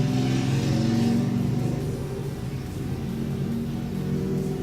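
Motorbikes ride past outdoors, a loud, sustained engine rumble that swells early and then holds steady as the bikes roll by, with no voices over it.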